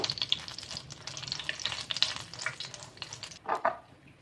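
Dried chillies, six of them, frying over low heat in two tablespoons of coconut oil in a pan, giving a steady close crackling sizzle with brief stirring scrapes.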